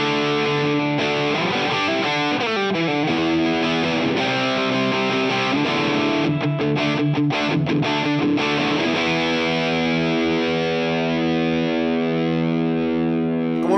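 Electric guitar played through a Kasleder Toxic Twins overdrive pedal with its tube screamer circuit cascaded into the second drive, giving a thick, saturated distorted tone; steady chords and sustained notes ring loud and continuous throughout with no talking.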